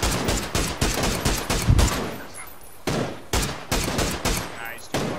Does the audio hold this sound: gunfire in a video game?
yes